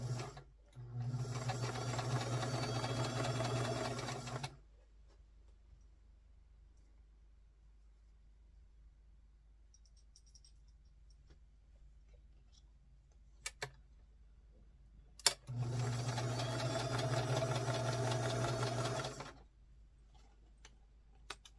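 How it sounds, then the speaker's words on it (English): An old inherited sewing machine stitches in two steady bursts of rapid needle whirring. A long quiet gap with faint clicks separates them. "It was my mother's machine, and I've been sewing on it for quite a while now."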